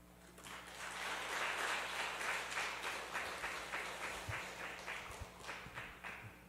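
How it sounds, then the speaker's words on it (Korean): A church congregation applauds as the pastor comes forward for a sermon, a broad, steady wash of many hands clapping in a large room, holding fairly even before thinning toward the end with a few scattered claps. "크게 환영의 박수 하겠습니다"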